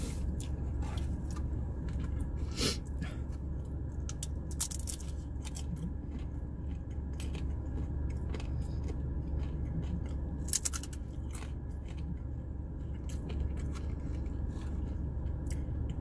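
Close, crisp crunching bites of Jack in the Box onion rings and curly fries, repeated at an uneven pace over a low steady background hum.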